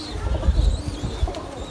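Pigeons cooing in a loft as the flock is released, with soft low coos and a rustle of activity close by and no talk.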